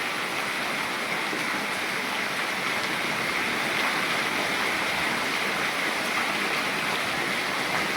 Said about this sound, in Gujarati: એટલો વરસાદ પડે